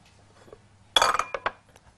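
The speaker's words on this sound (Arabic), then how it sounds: "تلج اديله تلج" Ice cubes drop into a lemon juice drink with a sudden clattering burst and a few sharp clinks following, close and brief after a quiet moment.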